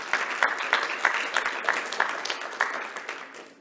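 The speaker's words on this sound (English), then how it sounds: "So give a round of applause for Gord and the Lyric Theatre." An audience at the Lyric Theatre gives a round of applause: steady, moderately loud clapping from many hands, with individual claps standing out, and no voices.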